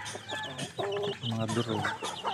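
Several hens and chicks cluck close by in a backyard farm, with short overlapping calls and a few longer, higher squawks, along with faint background chatter.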